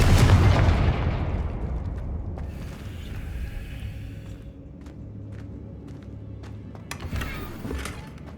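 Confringo fire-spell blasts in the Hogwarts Legacy game: a loud booming explosion at the start that slowly decays into rumbling debris, followed by a few fainter pops and cracks.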